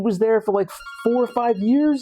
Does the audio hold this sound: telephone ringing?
yes